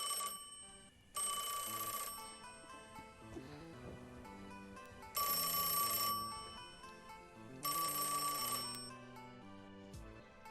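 A telephone rings in three separate bright, trilling bursts, each lasting about a second, over soft background music in an indoor drama scene.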